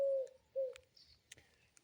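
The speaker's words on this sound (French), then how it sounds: "avec le chant des pigeons là, un peu partout" Pigeons coo outdoors, two low, soft hooting calls close by followed by faint chirps and small clicks in an otherwise quiet setting.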